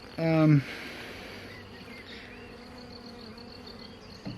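Honeybees from a very small swarm buzz softly and steadily around a hive frame, opening with a louder, close pass of one insect's rising drone, then settling into a faint hum. Light talk runs underneath.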